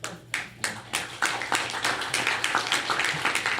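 Audience at a memorial lecture breaking into applause: a few scattered claps swell quickly into steady, dense clapping from a roomful of people, sustained to the end.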